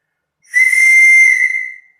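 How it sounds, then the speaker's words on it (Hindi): Loud, clear whistle produced by blowing into a resonating air column in a physics demonstration, a single steady high-pitched tone with breathy hiss lasting over a second, then fading. "साउंड प्रोड्यूस हुआ, जो सीटी बजी"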